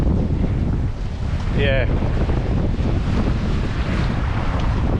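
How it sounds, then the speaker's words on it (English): Strong wind buffets a 16-foot trailer sailer out on open water in about 37 knots, a loud, constant roaring rush over the microphone that nearly swamps a brief spoken word. "the wind picks up"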